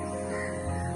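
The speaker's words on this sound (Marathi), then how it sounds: "पक्ष्यांचा आवाज येत आहे" Crow cawing on a morning walk, a single harsh nearby call filling the short moment, with no talk over it.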